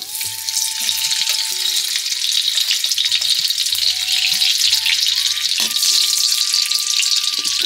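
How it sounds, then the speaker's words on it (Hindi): Steady, loud sizzling of ghee in a hot wok, a dense crackling hiss running throughout with faint tonal hums underneath; no voices. "कढ़ाई गर्म हो गई है। अब हम घी डाल देते हैं।"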